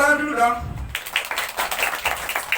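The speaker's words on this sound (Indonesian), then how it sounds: "Oke, tepuk tangan dulu dong." Children and adults in an audience at a kids' coloring contest with a magic and storytelling show clap their hands together in a dense, steady round of applause. It follows a brief stretch of a voice.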